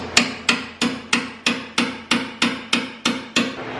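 A hammer strikes a metal center punch to mark a drill hole on a Toyota Tacoma during a hood strut install. About ten sharp, evenly spaced taps land close and loud, each ringing briefly before the next.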